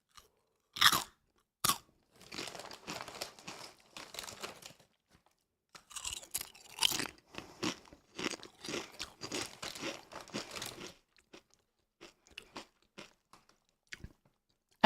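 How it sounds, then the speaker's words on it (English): Crunchy chips chewed right up against a Shure MV7 microphone: loud, close, crackling crunches in irregular bursts with short pauses between bites and no talking. "But the chips also do have a good crunch."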